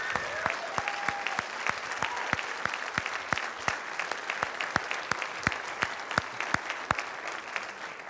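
Audience applauding after a question-and-answer session at a theatre talk, steady rhythmic clapping from a small crowd at moderate distance, sustained evenly throughout.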